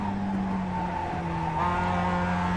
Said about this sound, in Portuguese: Adoro o som desse carro, cara.